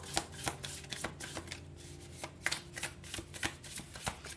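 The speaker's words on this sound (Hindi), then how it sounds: "चलिए शफल कर लेते हैं कार्ड्स को आपके लिए" A tarot deck shuffled by hand, with close, papery flicks and soft slaps coming in quick irregular bursts and a brief lull midway, with no voices present.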